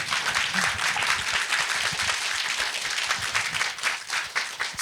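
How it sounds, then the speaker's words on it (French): Continuous audience applause, a dense steady patter of many hands clapping at moderate distance, with faint voices underneath. "On peut l'applaudir aussi."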